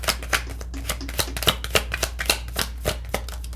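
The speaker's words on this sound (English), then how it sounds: "Hang on, let's get a good shuffle here." Tarot cards are shuffled by hand close up, giving a rapid run of crisp riffling flicks and soft slaps in an uneven rhythm, with no voices.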